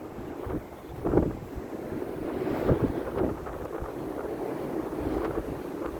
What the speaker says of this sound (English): It's going to be a bit windy right here